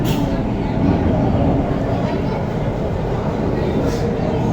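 An Ahmedabad metro train rumbles loudly underground, a heavy low roar with rhythmic rattling of the carriages that never lets up.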